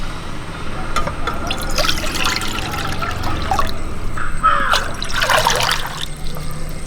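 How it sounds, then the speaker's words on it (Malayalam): Water trickles and pours into a cooking pot while making chicken curry, a close, uneven stream with splashes and drips that swells toward the end. "വെള്ളം ഒഴിച്ചു കൊടുക്കാം"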